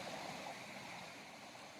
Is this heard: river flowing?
yes